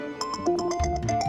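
A mobile phone rings for an incoming call, a short melodic ringtone with regular repeating beeps that is clear and fairly near, playing alone with no talking.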